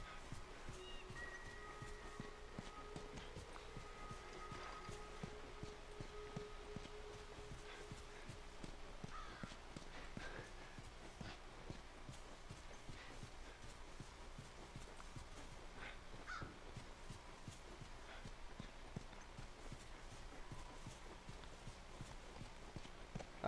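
Horse hooves clip-clop in a steady walking rhythm in the video game The Last of Us, faint and continuous under quiet ambient game sound.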